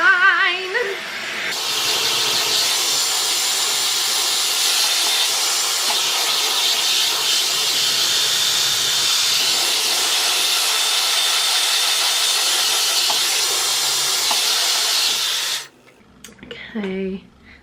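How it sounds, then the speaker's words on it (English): A hair dryer blows hard on its rough-dry setting, a loud steady airy roar that holds for about fifteen seconds and then cuts off abruptly, leaving brief voices and handling noise. "I've changed it to the blow dry mode, the rough dry mode"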